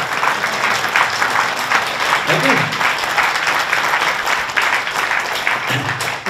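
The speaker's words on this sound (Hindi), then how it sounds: "देखो, इन तालियों में दम है," Lively audience applause during a spiritual talk on effort and meditation, a thick continuous roar of many hands clapping that holds steady from start to finish, with some voices mixed in.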